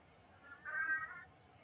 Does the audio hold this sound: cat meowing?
yes